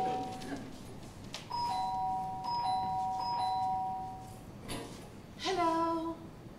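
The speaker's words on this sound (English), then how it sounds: "as he's looking, his doorbell rings" A doorbell rings in a home with clear ding-dong chime tones, sounding a few times in short succession at moderate volume, with some soft background noise and a faint voice.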